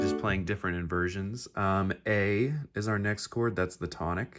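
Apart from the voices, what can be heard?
No everyday noises stand out.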